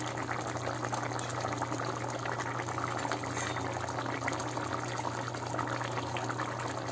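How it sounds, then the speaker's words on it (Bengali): Warm water pours into kadai chicken simmering in a pan, a soft, steady, continuous rush of liquid at low level with no voices. "গরম জল দেবো এটাতে এবার দিয়ে দেবো আমরা উষ্ণ উষ্ণ গরম জল"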